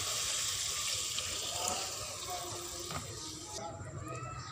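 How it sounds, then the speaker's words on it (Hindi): A cup of water is poured into a pan of potato and egg curry, a soft, steady splashing pour that runs for several seconds at low volume and then tapers off. "एक कप पानी शामिल करेंगे।"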